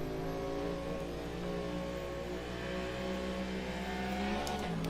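Several LMDh prototype race cars idle and rev together on the grid at Kyalami in Automobilista 2, a dense steady engine drone with layered harmonics, loud and continuous, with a brief swell near the end.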